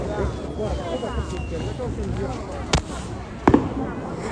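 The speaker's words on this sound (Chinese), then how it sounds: "我们这放不了烟花，那你们看一看好吗？" Two sharp, separate fireworks bangs go off at a distance, about a second apart, over a steady background hum and murmur of voices.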